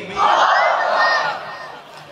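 Large gathered crowd at an outdoor religious mahfil in Dinajpur roaring a unison chant in response to a takbir call, a loud sustained massed shout lasting over a second and then fading.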